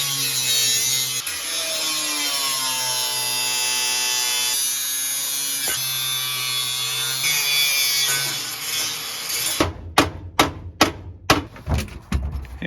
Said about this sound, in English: Dad's gonna probably cut that out a little bit to raise the steering column up